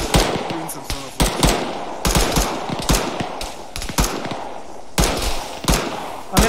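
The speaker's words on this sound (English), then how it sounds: "I'm getting shot at from places I can't even see." Gunfire in the video game Arma 3 Antistasi, with sharp close shots and short bursts repeating irregularly, loud and punchy against a low background.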